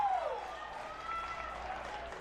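Home crowd at a Richfield high school baseball state tournament game, a steady wash of cheering and applause held at moderate level throughout, with a few whistles rising above the noise.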